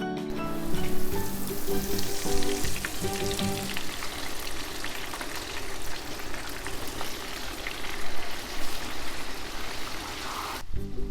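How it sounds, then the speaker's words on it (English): Ravioli fries in hot oil on a griddle rangetop with a dense, steady crackle and sizzle, close up, continuing for several seconds before cutting off near the end. "we're going to put them in and start frying them"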